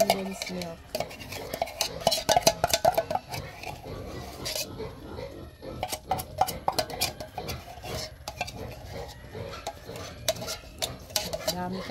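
Ube halaya mixture with condensed milk is stirred in a pot, giving repeated scraping and clinking of a utensil against the pot in an uneven rhythm, close and fairly loud.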